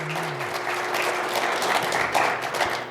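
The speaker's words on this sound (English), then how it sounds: "give them all a round of applause" Audience applause at a cannabis business conference and expo, steady dense clapping filling the room at moderate loudness for the whole stretch, with no voices over it.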